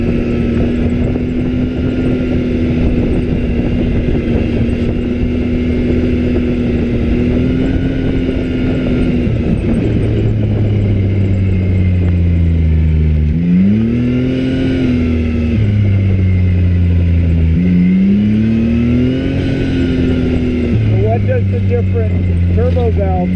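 Turbocharged UTV engine rising and falling in pitch through repeated revs, loud and close throughout, with a blow-off valve venting between pulls and people talking over the running engine.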